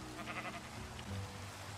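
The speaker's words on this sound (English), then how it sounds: "There's even a sheep enjoying the waterfall." A sheep bleats softly beside a waterfall in the game Minecraft, a few short wavering calls faintly heard over a constant rushing water background.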